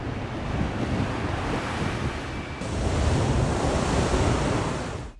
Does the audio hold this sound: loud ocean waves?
yes